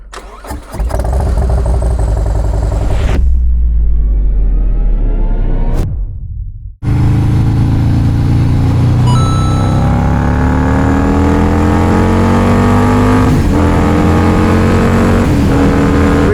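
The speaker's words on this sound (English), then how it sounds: "Cold start time." A 2024 Harley-Davidson Road Glide with a supercharged 135 cubic inch engine cold starts: a loud cranking catch and roar, a brief dip and cutoff, then a restart settling into a heavy, steady, rumbling idle with rising supercharger whine.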